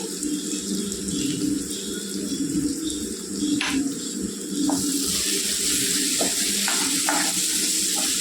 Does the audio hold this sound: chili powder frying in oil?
yes